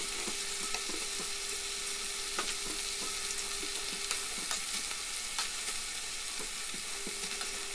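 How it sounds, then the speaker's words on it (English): Lamb for rogan josh searing and browning in hot oil, a steady, dense close sizzle with occasional light taps and stirring clicks, with no talk over it. "So we'll just sear the outside, just brown the meat, and put that to one side for the moment."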